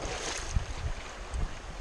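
Fast-flowing creek water rushing past a bridge pillar on Pine Creek at high water in May, a steady wash of noise with low gusty rumbles, no talking.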